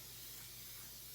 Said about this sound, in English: I normally take the cooking spray and spray